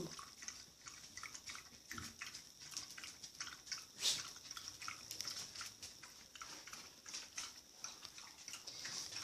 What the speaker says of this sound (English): You like drinking that water.